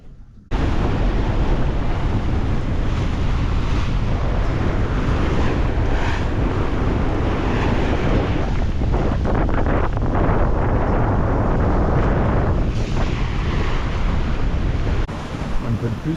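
Strong wind of 25 to 30 knots roars across the microphone on a sailboat at sea near the Honduras Bay Islands, with waves and surf crashing in a continuous, loud, gusty rush.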